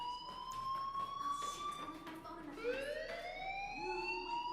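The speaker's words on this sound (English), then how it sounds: "do you hear that fire alarm?" A fire alarm sounds in the Life is Strange game as an electronic warbling siren whose tone rises and falls in a repeating sweep. It runs steadily over a faint background bed.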